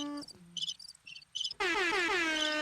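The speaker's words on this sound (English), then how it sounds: "Do the crickets again." Synthetic cricket chirps from a podcast soundboard: a few short, high chirping bursts, then a loud, sustained, steady chorus of cricket trilling with no talking.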